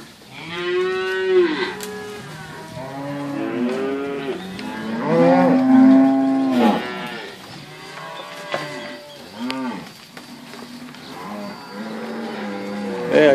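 Cattle in a pen moo repeatedly and loudly, several overlapping drawn-out calls rising and falling from more than one animal, close by, with no talk over them.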